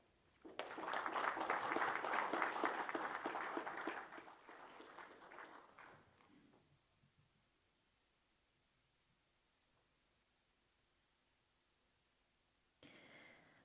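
Audience applause at the opening session of a Pacific Islands leaders' conference and summit: a dense, steady round of clapping that swells, then thins and fades into a quiet room before a brief sound at the end.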